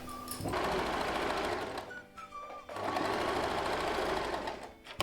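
A sewing machine stitches elastic onto a salwar while the fabric is pulled taut, running in two steady loud bursts with a short pause between them, alone without talk.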